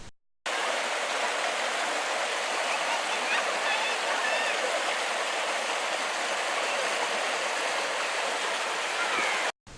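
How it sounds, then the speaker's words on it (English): Rushing water from a creek draining a lake, a steady broad hiss that starts abruptly and holds constant throughout, close by. "We arrive at the creek that drains the lake."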